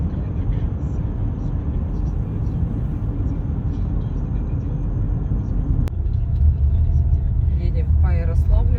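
A car drives along Zelyonaya Street in a Russian town, its engine and tyre rumble steady and close inside the cabin, growing slightly louder near the end with a brief higher whine.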